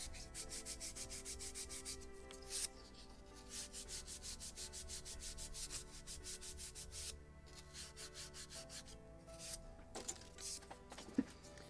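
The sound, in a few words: polishing a wooden model ship deck plank with Scotch-Brite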